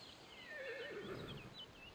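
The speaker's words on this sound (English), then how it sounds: "Ito na pala yung mga horses." Horses neighing in A Plague Tale: Requiem, a single faint, wavering whinny with light clip-clop beneath, short and heard alone.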